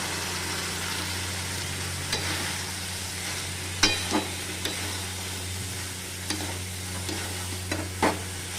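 Spice masala is sautéed in a pan with boiled potatoes and peas, a steady sizzle punctuated by several spatula scrapes and taps over a low background hum.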